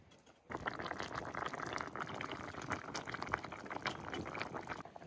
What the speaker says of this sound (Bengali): মাছ দিয়ে আর একটু জাল দেবো